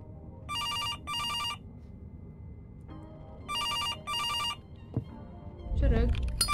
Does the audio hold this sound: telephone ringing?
yes